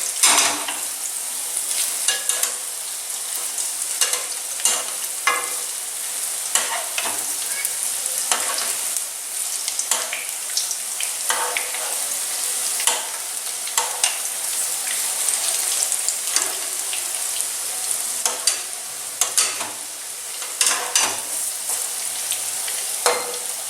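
Kalmi greens fritters frying in hot oil, a dense, continuous crackling sizzle with small pops, heard close and steady without voices.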